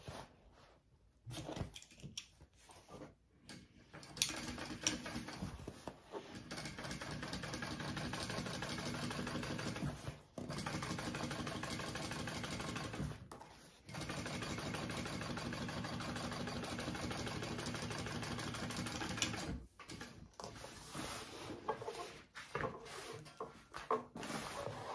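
Sewing machine top stitching along the bottom seam of a backpack, a steady close mechanical hum and rapid needle rattle running in long stretches, broken by short pauses between runs.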